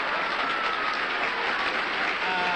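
Steady, dense applause from a theater audience at a curtain call, continuous and fairly loud throughout with no pauses.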